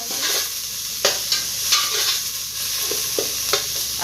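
Mutton curry is stirred in a pan over a constant hiss of sizzling, with a series of clear spoon scrapes and knocks spaced roughly every half second.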